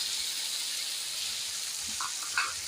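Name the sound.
tomato paste added to frying onions and potatoes, sizzling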